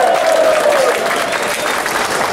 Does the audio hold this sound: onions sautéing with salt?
no